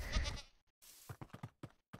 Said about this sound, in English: Ooh, a goat!